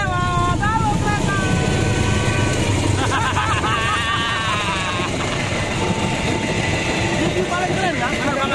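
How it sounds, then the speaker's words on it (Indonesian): A train passes close by a level crossing in Bojonegoro, Indonesia, a loud, continuous rumbling roar. People talk and exclaim over it. "Ada kereta lewat."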